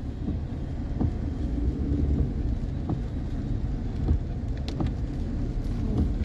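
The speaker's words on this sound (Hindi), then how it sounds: "हल्की फुल्की बारिश चल रही है फरीदाबाद में" Light rain falls during a drive through Faridabad in heavy monsoon weather, heard as a steady wash of rain and road noise from inside a moving vehicle, with a few low thumps.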